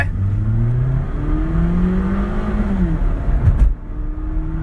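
Toyota Altis 1.6 with turbo and automatic gearbox pulling away from a stop, engine rising in pitch through a gear change, loud and close from inside the car.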